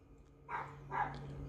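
A street dog barks twice, two short yaps about half a second apart, fairly faint and at a distance against a quiet background hum.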